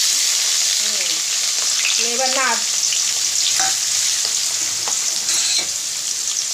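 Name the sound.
chopped onions frying in oil in a pan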